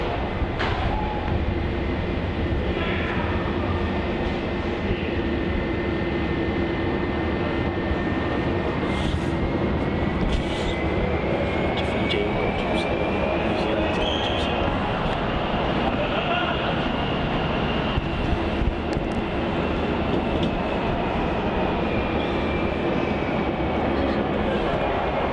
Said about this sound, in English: Shanghai Airlines has come out there from behind Terminal 2 and is going to be departing on runway 34